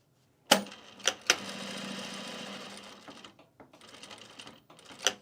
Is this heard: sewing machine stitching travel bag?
yes